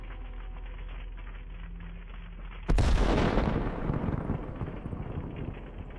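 An artillery strike hits an M1987 howitzer and its ammunition, a sudden loud blast after a low steady background rumble, then a rolling, crackling roar that slowly decays, with no talking.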